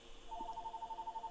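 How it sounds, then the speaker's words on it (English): A telephone rings faintly in a small pie bakery, a quick warbling trill pulsing about a dozen times in a steady rhythm over quiet room noise. "my phone's still ringing"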